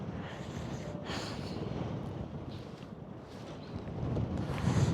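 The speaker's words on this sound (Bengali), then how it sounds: "হাওয়া দিচ্ছে" Cold wind at a high mountain pass, the Fotu La top, blows beside a parked motorbike as a soft, gusty low rush that swells slightly toward the end, fairly faint and with no talk.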